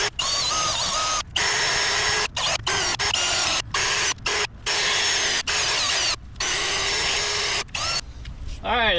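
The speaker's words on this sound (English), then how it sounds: "there's the wire brush" A power drill fitted with a wire brush attachment scrubs loose finish off a wheel being refinished, a loud continuous grinding whir cut by short pauses as the trigger is released, close up with some voice in the background.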